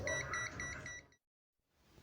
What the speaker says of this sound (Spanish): Ahora el cable de fase sí lo detecta con alarma.